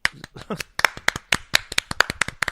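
A few people clap their hands in sharp, irregular bursts of close claps, mixed with brief talking in a casual podcast setting.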